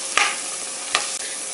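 Spoon stirring mashed potato into a spicy Tamil potato curry in a pan, with two soft scraping strokes over a steady low sizzle, close and unaccompanied by talk.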